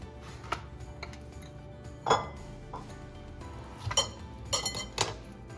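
A kitchen knife chops avocado for chutney on a board, a handful of sharp, separate taps and clinks spaced unevenly, fairly close and faint against a quiet room.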